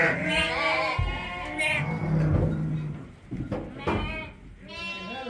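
Lambs bleat in a village barnyard in Kulalar, Demirci, several wavering cries near and clear, mixed with people talking nearby.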